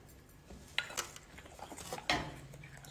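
Spoon stirring hot milk mixed with starch, white henna and grated soap in a bowl, giving a few clinking utensil taps against the dish and soft scraping, close and fairly quiet with no talking.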